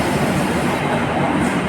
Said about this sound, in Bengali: 2 ঘন্টা 8 মিনিট লেট ট্রেনটি ছাড়লো